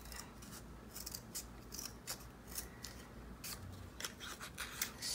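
Scissors snip through magazine paper for an altered-book collage, giving faint, quick, repeated cutting sounds over a low, steady background hum.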